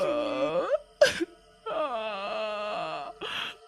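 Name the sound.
woman crying and wailing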